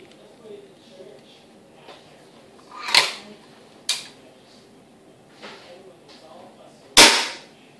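Hatsan 95 air rifle fired during chronograph velocity testing: two sharp, loud cracks several seconds apart, with a lighter click between them and faint background talk.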